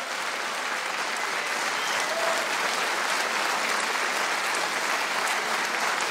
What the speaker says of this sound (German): Ja, viel Applaus für Martin Renner.